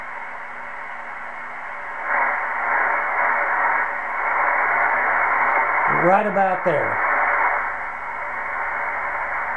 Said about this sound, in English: Now we're going to rock the exciter to get the strongest signal we can.